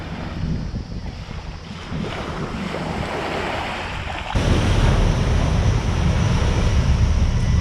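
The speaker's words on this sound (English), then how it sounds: "The barge is just arriving." A barge arrives close to a beach on Moreton Island amid continuous loud surf and heavy wind noise, and the rumble rises sharply partway through.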